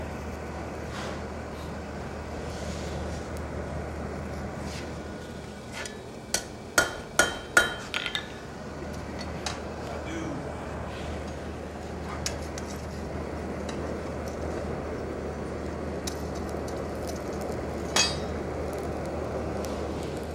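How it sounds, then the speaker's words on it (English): A quick run of sharp metallic strikes from a small hammer forge-welding hot metal rings out over a steady low hum, then a few scattered lighter taps follow. "Use my smaller hammer for the forge weld"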